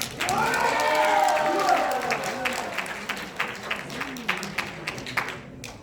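A crowd at a political rally applauds visiting press members, dense clapping starting loud and steady, with voices talking over it early on, then thinning to scattered claps as it fades.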